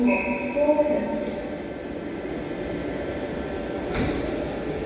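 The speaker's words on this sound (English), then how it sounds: "There's my train to take us Longport" A four-coach passenger train pulling into Kidsgrove railway station, a steady low rolling rumble with faint brake whine and hum, fairly quiet and continuous, with someone talking over it.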